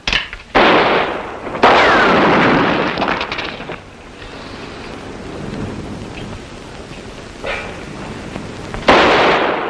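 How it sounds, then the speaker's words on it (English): Gunfire in a classic western TV show, several loud booming shots with long rumbling tails, spaced a few seconds apart, close and heavy. "Stop shooting into there, Lute."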